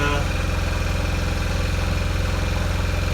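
A narrowboat's diesel engine idles steadily with a low, regular chugging pulse, close and continuous throughout.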